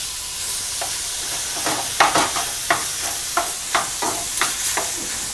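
Meat fries in olive oil in a pan with a steady close sizzle, broken by about a dozen sharp scraping stirs of a utensil at a quick, uneven rhythm.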